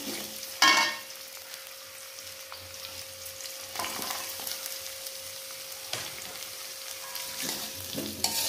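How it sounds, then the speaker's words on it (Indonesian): Garlic, onion, shallots and chili stir-fried in hot oil for a water spinach dish: a steady close sizzle with stirring scrapes and a brief loud clatter near the start. "Ulek, ditumis sampai layu, sampai wangi ya."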